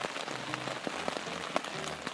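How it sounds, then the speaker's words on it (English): Severe rain drumming on a backcountry camping tent in Algonquin Provincial Park, a quiet, dense patter of drops with scattered sharper hits, heard alone. "we've woken up to severe rain, as you can probably hear"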